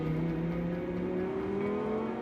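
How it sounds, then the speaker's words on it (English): Lamborghini Huracan engine at a steady high rev, a loud, close, buzzing drone with rising harmonic tones sustained for about two seconds. "It can corner like a race car and shatter trees with its engine noise."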